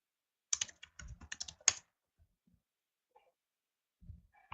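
Short quiet burst of computer keyboard typing, a quick cluster of key taps followed by a pause and a few faint clicks, heard alone in a quiet room.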